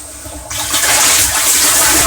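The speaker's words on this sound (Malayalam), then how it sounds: "ഞാൻ അവിടെ പൈപ്പ് തുറന്നിട്ട് ഈ വെള്ളം മൊത്തം കളഞ്ഞിട്ട്" Muddy water gushes from a pipe opened on a water tank. A low trickle turns abruptly into a loud, steady rushing flow about halfway through the clip.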